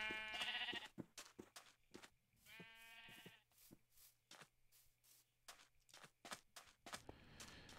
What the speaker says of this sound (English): Oh, did a sheep escape?